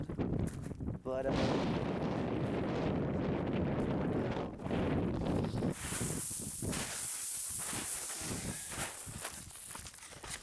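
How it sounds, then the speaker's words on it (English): Strong wind buffets the microphone in loud, continuous gusts and rumbles, with a voice talking underneath. "It is really windy, obviously, and that's a little cold."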